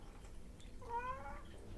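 A cat gives a single clear meow, moderately close, over a quiet low background hum.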